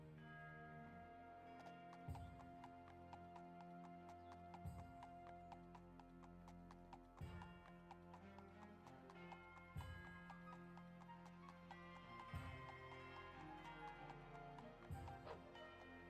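Horse hooves clip-clop at an even, plodding pace in a video game escort of a caravan, steady regular strikes over layered game music and ambience, fairly quiet overall.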